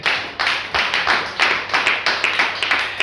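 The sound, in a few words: church congregation clapping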